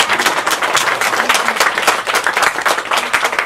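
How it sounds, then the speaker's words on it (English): A festival panel audience gives a round of applause, with dense, lively clapping sustained throughout at close range. "give her a round of applause"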